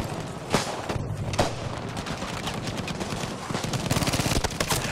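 Dense gunfire from the Battlefield V video game, with rapid automatic bursts and sharp individual shots layered over a constant battle din, several louder cracks standing out near the start.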